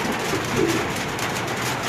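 Pigeons coo softly in low, throaty murmurs against a steady background hiss, the calls blending into the constant noise.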